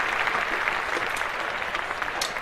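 A burst of clapping and applause, dense and steady at close range for a couple of seconds, apparently from a podcast studio crowd.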